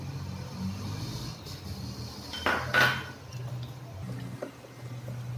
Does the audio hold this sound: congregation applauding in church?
no